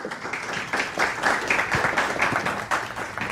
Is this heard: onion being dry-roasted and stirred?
no